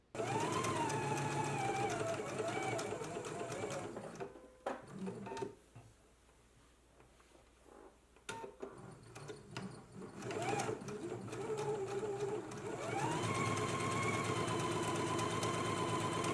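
A sewing machine runs long, lengthened ease stitches across the upper collar of a jacket, with steady motor whirring at the start, a quieter pause in the middle, then another sustained run to the end.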